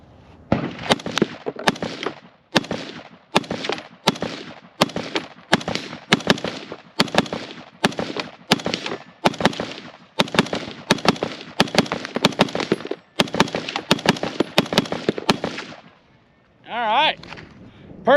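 A Desert Tech MDRX Micron rifle empties a full magazine at an outdoor range: a long run of loud, sharp shots at a steady, even pace, followed by a brief voice at the end.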